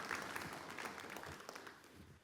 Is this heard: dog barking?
no